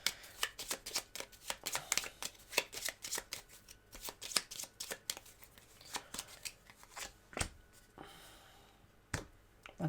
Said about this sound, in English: we need to shuffle these cards